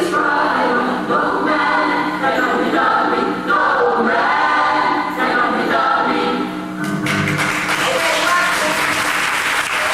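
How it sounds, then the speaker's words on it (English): An audience applauds a choir at a spring concert, with sustained, loud, dense clapping throughout and a brief swell of crowd noise near the end. "so if they sound good, will you clap for them?"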